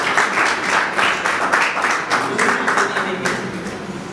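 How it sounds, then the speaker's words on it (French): An awards-ceremony audience applauds at the Trophée Nzonzing, a steady wash of clapping from a crowd that holds throughout and tapers slightly at the end. "Est-ce qu'on peut applaudir pour M."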